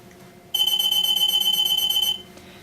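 An EAS AM anti-theft security gate alarm sounds a single loud, shrill continuous electronic tone lasting about a second and a half, then cuts off abruptly.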